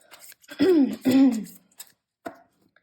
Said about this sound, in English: With me clearing my throat the way I just did